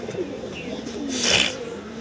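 Pigeons being bathed give low, soft cooing, close by, with steady throaty murmurs over a mild background hiss.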